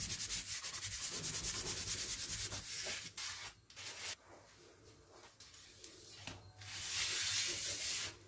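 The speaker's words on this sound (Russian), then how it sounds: "Сковороду опять тщательно протираем." Cloth or paper towel rubbing firmly across a frying pan between batches of pancakes, a steady scraping swish that continues nearly unbroken and close, briefly easing midway before growing strong again.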